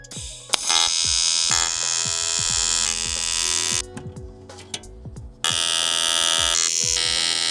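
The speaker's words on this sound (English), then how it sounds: "I've dipped my tungsten about 7 times trying to do that tack" TIG welding tacks on aluminum produce a steady, loud electric buzz that drops out briefly and then resumes, with small crackles and pops across the arc.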